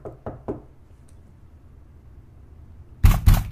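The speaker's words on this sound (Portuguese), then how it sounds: "tem alguém batendo na porta" Three quick knocks on a door in the Minecraft horror game, sharp and close, followed by a long quiet stretch before a loud burst of other game sounds at the end.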